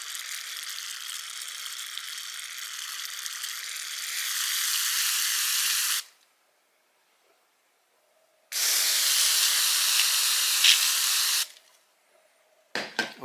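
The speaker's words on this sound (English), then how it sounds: "I'm just going to rinse it down." Steady loud spray hiss rinsing a cleaned Schatz maritime clock movement, running for about six seconds, pausing briefly, then a second burst of about three seconds, followed by faint clatter.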